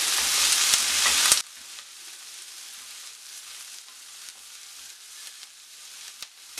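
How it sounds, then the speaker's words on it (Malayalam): Ginger-garlic paste with onion sautéing in a pan for paneer butter masala: a bright, loud frying hiss that drops abruptly to a soft, steady sizzle with light stirring scrapes. "ഈ ഇഞ്ചി വെളുത്തുള്ളി പേസ്റ്റിൻ്റെ ഒക്കെ പച്ചയ്ക്ക് ഒന്ന് മാറുന്നത് വരെ ഇതൊന്ന് വഴറ്റി കൊടുക്കണം."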